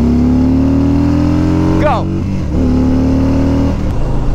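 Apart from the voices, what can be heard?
motorcycle accelerating hard from 0 to 60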